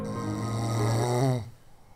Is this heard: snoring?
yes